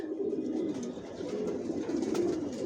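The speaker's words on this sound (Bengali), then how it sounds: "এখানে সব অ্যাডাল্ট কবুতর, পায়ে ট্যাগ লাগানো আছে" Adult racing pigeons with leg tags, kept as stock, coo in a low, continuous murmuring chorus close by, overlapping soft throaty calls with no talking.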